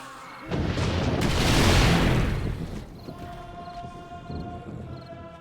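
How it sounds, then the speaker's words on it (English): A single big explosion in the game 7 Days To Die bursts with a deep roar that swells and slowly fades, leaving a quieter rumble and faint tonal hum afterward. "This is going to be a nice big explosion."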